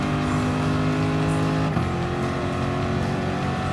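A Gr.3 race car in Gran Turismo Sport, racing at Monza, roars loudly at full throttle off the launch, its steady engine whine dipping briefly as it shifts gear and then pulling on, with no talking.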